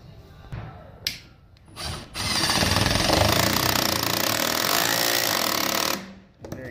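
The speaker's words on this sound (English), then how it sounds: "Very careful when you're using an impact, but if you are careful, you can use it." Impact driver tightening Loctite-patched hex nuts on a Norton ADAEZ 5800 door operator: a few short bursts, then a loud, sustained rattling hammer for several seconds, close up, ending abruptly.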